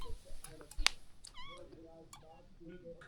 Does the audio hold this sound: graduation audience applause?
no